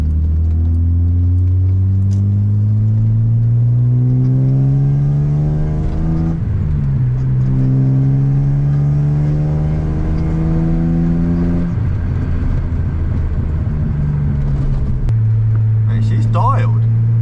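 A BMW E30 engine drones loudly from inside the car as it pulls through the gears, the pitch climbing in repeated sweeps and dropping at each shift, with a voice speaking briefly near the end.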